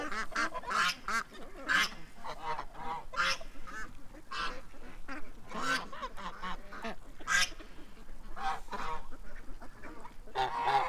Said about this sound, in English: That goose got a totally different sound compared to the rest of the geese,